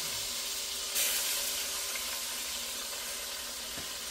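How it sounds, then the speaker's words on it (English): Pot roast sears steadily in a hot pan as onions go in, a continuous close sizzle with a brief louder crackle burst near the start, no talking. "All right, searing beautifully here."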